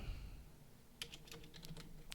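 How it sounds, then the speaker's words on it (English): Faint computer keyboard typing during a live day-trading session, with a few scattered light keystrokes close by and no talk. "typing while you're talking"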